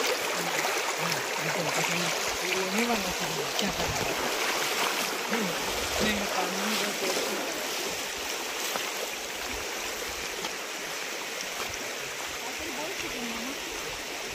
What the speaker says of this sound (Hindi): या प्रवाहात आता पाणी खूप जोरात वाहतंय.